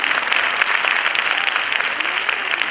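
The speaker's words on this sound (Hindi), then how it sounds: "ताली बजा ना मेरे लिए" An audience at a women's church meeting breaks into loud, sustained applause, dense clapping from many hands close by with no break.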